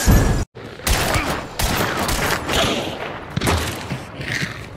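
Gunfire in a shooting video game, loud rapid volleys of shots that cut out briefly and then resume in dense repeated bursts, close and sustained throughout.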